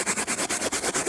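A brush scrubs car seat upholstery in quick, even back-and-forth strokes, about ten rhythmic rasping rubs in a second, close and loud with no talking.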